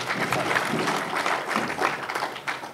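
An audience at a public event for a water project in Iringa bursts into dense, sustained applause that continues through the whole moment without a pause.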